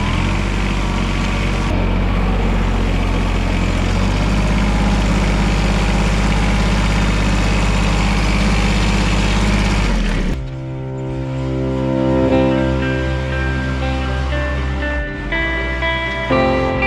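Micro-tractor engine running steadily and loud with a deep low drone while a small fork pushes crop residue in a vegetable-growing field; partway through the engine note shifts to a lower, more harmonic idle.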